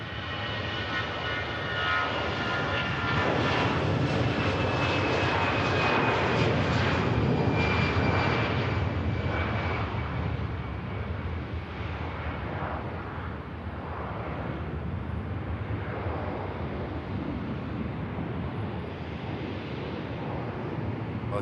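An EasyJet jet airliner on its takeoff roll at Manchester Airport sends up a loud, broad engine roar with a high whine. The roar builds to a peak and then eases into a sustained rumble as the aircraft moves off. No voices are heard.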